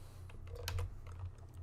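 A computer keyboard being typed on while editing an image in graphic design software: a quick run of close, crisp key clicks over a low steady hum, with no voices.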